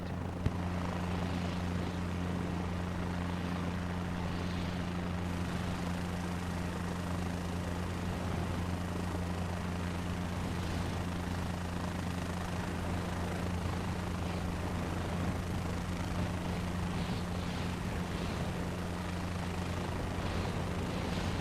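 Helicopter engine and rotor drone from Microsoft Flight Simulator 2024 during a forward takeoff run, a steady loud hum with strong low tonal bands holding constant throughout, no speech.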